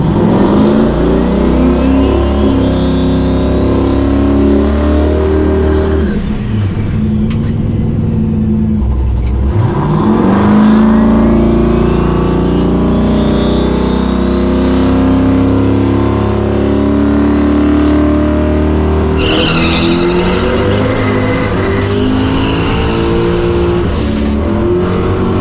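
A race car at full throttle on a track, engine revving hard and rising in pitch, then lifting and briefly squealing tires as it spins out before roaring back on power, loud and close throughout.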